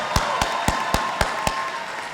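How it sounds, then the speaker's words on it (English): Clapping for graduates at a Hocking College summer commencement comes through as six sharp, evenly spaced claps at a steady rhythm over a faint room hum, fairly quiet overall. "we're going to start with one of several rounds of applause for our graduates"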